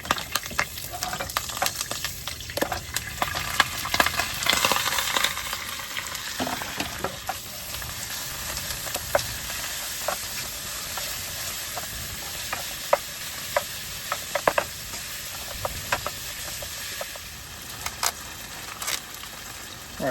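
Marinated beef browning in a wok at a campsite sizzles steadily at close range, with frequent sharp clicks and scrapes of stirring over the crackle and no one speaking.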